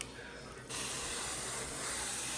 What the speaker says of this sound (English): I'm gonna go ahead and spray my griddle